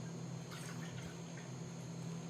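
Cooled boiled kelp water is poured from a cup into a bowl, a faint, brief trickle and splash over a steady background hum.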